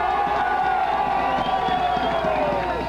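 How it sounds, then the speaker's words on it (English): Crowd at a national championship football game, Toledo Thunder versus Marlboro Shamrocks, cheering and shouting in a loud continuous roar with whoops rising out of it, heard as a broad distant mass. "Larry Heindel kind of pumps up the crowd"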